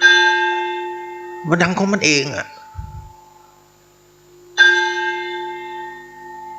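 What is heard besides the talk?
temple bell ringing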